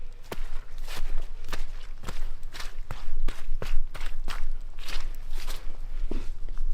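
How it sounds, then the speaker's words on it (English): Footsteps crunching over brittle debris at a steady walking pace, each step a sharp crackle, close and fairly loud with continuous gritty noise between. "In case you're curious what walking on a French dip sandwich sounds like."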